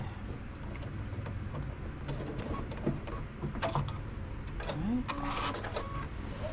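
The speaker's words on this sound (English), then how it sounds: "give it a back stitch over, and then just do a straight stitch across" A sewing machine runs in short bursts while stitching a shopping tote, a quiet mechanical whir and rattle, forward and reverse, with a person talking over it.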